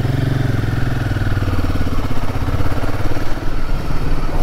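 A Royal Enfield Himalayan 450 motorcycle runs at night with a steady, close, loud engine thrum that pulses slightly, with no talk over it.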